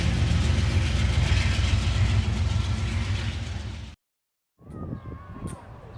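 A push-pull passenger train rolls past a California station with a heavy low rumble and steady wheel noise, loud and sustained before cutting off abruptly, followed by quieter rail and engine sounds.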